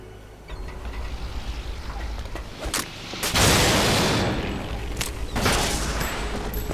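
Sustained bursts of gunfire from the video game Metal Gear Solid 2, loud and dense, with a heavier volley swelling midway and continuing through to the end with brief sharp cracks.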